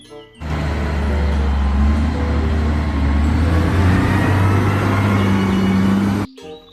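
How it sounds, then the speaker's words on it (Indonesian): A toy loader truck's engine effect plays loud and steady for about six seconds, a continuous motor rumble that starts and stops abruptly. "Wehehe, ini mobil loader."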